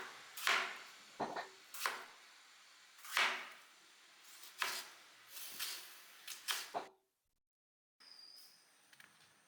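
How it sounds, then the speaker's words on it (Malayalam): A knife chopping vegetables on a board at home while a simple egg curry is made. About a dozen crisp, distinct strikes fall in an uneven rhythm, each close and clear, and the cutting stops near the end. "ഓരോന്നങ്ങനെ നുറുക്കി വരുന്നുണ്ട്."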